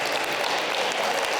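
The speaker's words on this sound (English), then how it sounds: "Let's give a round of applause." Steady, dense round of applause from an audience at an international school literacy celebration in northern Japan, a continuous wash of many hands clapping at close range for a brief moment.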